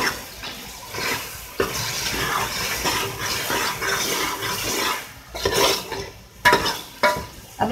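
Spoon stirring and scraping through meat with spinach and potatoes being fried to dry off the water in an aloo palak gosht, steady sizzle with clinks of the pan, louder scrapes toward the end.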